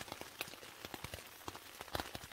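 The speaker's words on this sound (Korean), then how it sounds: "비는 계속해서 내려오고 있습니다" Rain falls during a mountain backpacking trip in Taiwan's Snow Mountain area, heard as irregular, close drops tapping on a surface in a quiet, steady patter.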